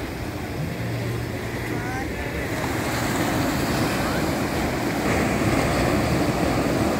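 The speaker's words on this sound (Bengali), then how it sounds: "এখন জোয়ারের সময়, বড় বড় ঢেউ এসে আছড়ে পড়ছে।" Large waves crash onto the Cox's Bazar beach at high tide in the evening, making a continuous, rumbling surf roar mixed with gusty wind buffeting the microphone.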